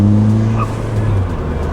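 A Ford Fiesta ST fitted with a hybrid turbo at full throttle, a loud, close engine drone from inside the car that holds steady, then gives way to rough, broadband rushing noise.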